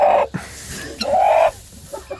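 A pet chicken named Soup gives a few close, loud clucks and squawking calls in short bursts, separated by brief quiet gaps.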